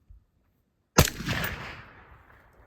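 A single sharp rifle shot fired through a Brugger Thomet Print-X RBS 762 suppressor cracks loudly after a second of near silence, then decays into a long rumbling tail over about a second and a half.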